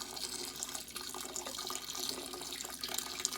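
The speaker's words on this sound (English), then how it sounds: "sparging my water, 170 degree water, into my grain, my brew pot, and draining it into my other brew pot." Hot 170-degree sparge water draining through a bed of grain into a second brew pot during home brewing, a steady trickling, splashing flow of liquid heard close up with no talking.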